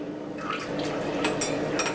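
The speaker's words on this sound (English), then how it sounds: "Then you add your water." Water poured into a pineapple and lemon detox drink gives a steady, close liquid trickle and splash that holds for about two seconds, with no voices.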